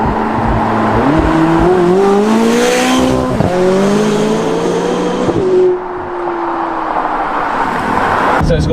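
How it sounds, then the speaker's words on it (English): McLaren 570GT sports car in sport and manual mode accelerating hard, its engine climbing through several rising gear pulls with turbo spool, each shift dropping the pitch, loud and close with no talk. "So here comes the turbos."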